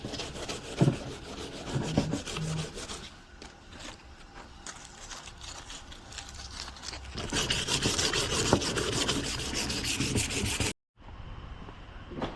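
Rough rasping and rubbing of sandpaper on rusty quad handlebars and a brake lever, a steady close scratching that swells louder in its second half before a brief cutoff.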